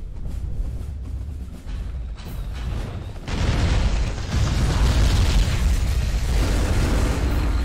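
Tank shells fire in War of the Monsters on PS2, a dense run of booming explosions and bursts that swells louder partway through and stays thick and continuous.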